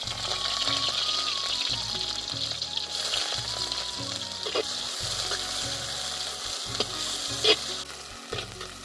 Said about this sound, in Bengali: এর মধ্যে পেঁয়াজ কুচি দিয়ে দেব।